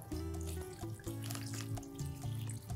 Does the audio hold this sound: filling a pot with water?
yes